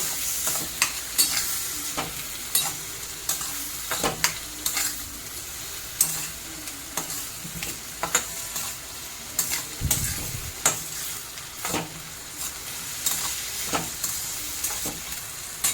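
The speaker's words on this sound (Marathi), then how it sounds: "आता आपण टोमॅटो टाकूया टोमॅटो पण चांगला परतून घ्यायचा आहे" Chopped tomatoes are sautéed in a pan for restaurant-style pav bhaji. A soft, continuous sizzle runs under regular, sharp spatula scrapes and taps against the pan, heard up close with no one speaking.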